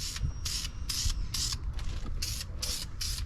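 Spray paint hissing onto a brake caliper on a Lexus ISF, fitted on the car, in short bursts of about a second each with brief pauses between, close and fairly loud over a low background rumble.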